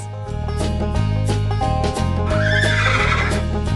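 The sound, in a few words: horse neighing in farm animals video game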